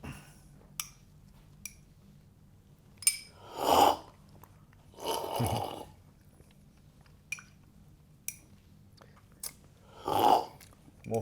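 Coffee is tasted at a home tasting session with several loud, close slurps separated by quiet gaps, plus a few small clicks and cup taps in between.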